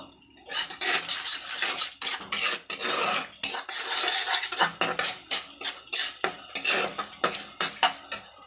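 A spoon scrapes and clatters against a pan as ingredients are fried and stirred for spicy ramen noodles, with rapid, irregular metallic strokes repeating close and loud throughout, with no voice.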